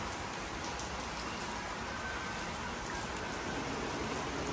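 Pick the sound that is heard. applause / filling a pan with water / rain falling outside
rain falling outside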